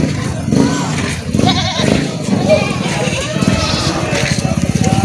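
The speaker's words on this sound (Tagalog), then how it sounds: "Yung mga kambing nila po, mga barako native." Native buck goats bleat repeatedly, overlapping one another in a noisy outdoor goat market, with people talking nearby.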